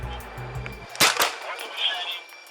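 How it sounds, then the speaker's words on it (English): A police less-lethal launcher fires at a man inside a 7-Eleven, one sharp loud bang followed by a second quieter crack, with engine rumble and a voice heard just before. "This less lethal launcher is deployed at the man in the 7-Eleven"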